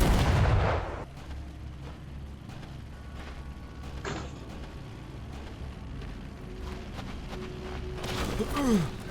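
Heavy gunfire and booming blasts in Sniper Elite VR open the clip, then a steady rumble of game ambience with scattered clicks and shots, swelling again at the end.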